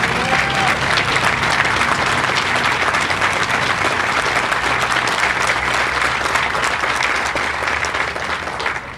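Sustained, dense applause from a large audience at a Delaware veterans Memorial Day service, loud and steady throughout with a few faint voices mixed in.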